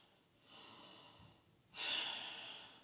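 Heavy breathing during a yoga stretch: a soft drawn-in breath followed by a longer, louder exhale through the nose, close and quiet with no talking.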